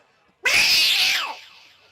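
A human voice imitates two fighting cats' harsh screeching yowl: one loud, drawn-out snarl that rises, holds, then trails away, during a live comedy show.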